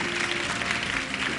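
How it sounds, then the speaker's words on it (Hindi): A studio audience at a Ramzan iftar television show gives soft, steady applause that stays even and fairly faint for over a second. "आप लोगों के लिए तालियां मेरी तरफ से।"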